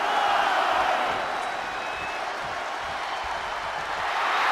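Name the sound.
wrestling arena crowd cheering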